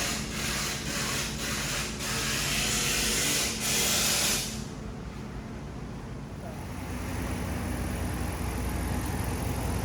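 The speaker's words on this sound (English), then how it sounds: "Now this is how a Hemi's supposed to sound." A Hemi V8 engine runs in a loud steady drone, with a burst of hissing noise over the first few seconds before it settles into an even, smooth running sound.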